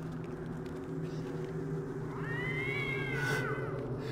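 In the stealth video game Thief, a cat lets out a single drawn-out, wavering meow at mid distance over a steady low ambient drone, with no talk.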